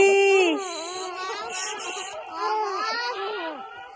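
Someone's baby cries close by in a series of high, wavering wails and whimpers that start loud and then continue a little softer, with brief breaths between the cries.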